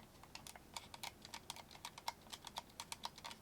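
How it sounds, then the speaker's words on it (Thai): Corsair M75 Air gaming mouse with its plastic shell squeezed, giving a run of close, sharp clicky creaks and ticks in an uneven rhythm, quiet and alone with no talk. "เวลาเราบีบจับเนี่ย มันก็อาจจะมีเรื่องของเสียงที่มันกรับกรับแกรบหน่อยเดี๋ยวเพื่อนๆฟังนะ"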